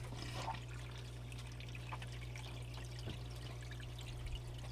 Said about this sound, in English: Let's fire up this sluice and run us some pay.